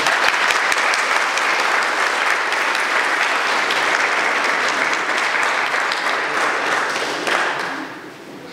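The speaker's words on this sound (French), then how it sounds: "Je pense qu'on peut les applaudir parce que c'était vraiment fort." Strong, sustained applause from a congregation at a confirmation service in a church in Sparsbach, many hands clapping loudly and evenly for about eight seconds before tapering off.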